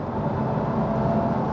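Jaguar XKR with a supercharger cruising on the road, giving a steady, dense engine and road drone with a faint whine, heard from inside the car without speech.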